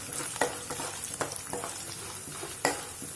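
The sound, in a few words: chana dal frying in oil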